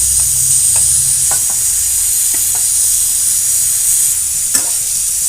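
Spring onions, small puti fish and eggplant fry in a pan with a steady, loud sizzle, broken by a few light knocks and scrapes as they are stirred close by.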